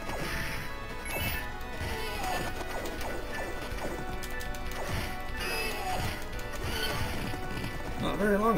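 Horse galloping in the Knights of the Round arcade game, a steady run of clip-clop hoofbeats mixed into busy game music, crashes and sword hits, with a player talking over it.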